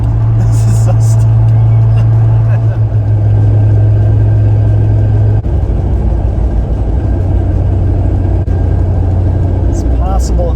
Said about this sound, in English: that sounds like a drive shaft. Straight up metal on metal.